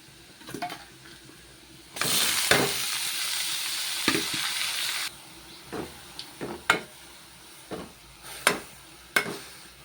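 Beetroot fried with softened onion and fennel seeds, stirred in a pan: a burst of loud sizzling in the middle, then intermittent scraping stirs and soft frying hiss, close by with no talking.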